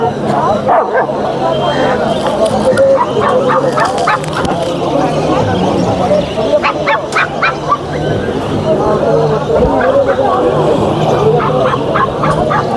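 Dogs bark and yip repeatedly at a crowded Kolkata dog market, the sharp barks cutting through a busy backdrop of steady conversation.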